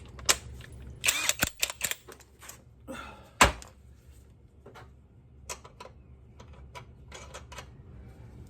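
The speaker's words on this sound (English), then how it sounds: "Especially when you got an impact wrench." Sharp bursts of rattling impact-wrench hammering fasten the strut top on a 1997 Toyota Corolla, loud and close, in short runs with pauses and clicks between, no talk.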